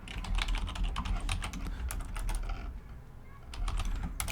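Fast typing on a computer keyboard, close and fairly quiet, with bursts of rapid key clicks and a brief pause near the end before more keystrokes.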